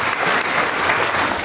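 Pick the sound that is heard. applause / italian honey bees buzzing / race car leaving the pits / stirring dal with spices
applause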